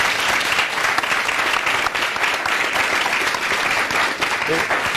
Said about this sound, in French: je pense que ça peut s'applaudir